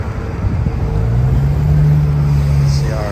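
Saturday city street traffic in Guadalajara, Mexico, a steady loud engine rumble as a car passes close by, with other vehicles droning underneath.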